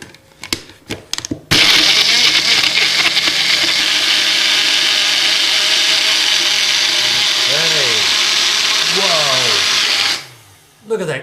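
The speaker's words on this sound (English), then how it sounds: "Put the top on this little blender" A small blender whirs loudly and steadily for several seconds after a few clicks, then cuts off abruptly.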